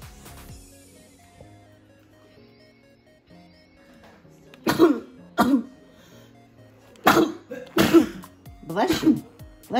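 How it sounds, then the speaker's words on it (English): A couple of sharp sneezes and throat-clearing bursts come close to the mic in quick succession after a quiet stretch with faint game music from a Roblox dragon game. "We're both sneezing over here."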